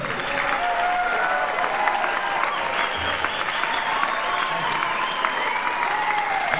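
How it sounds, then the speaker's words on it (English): An audience at a political campaign event claps for a speaker, producing a continuous wash of applause with a few faint voices and cheers mixed in. "Don't clap too long or you cut into my time."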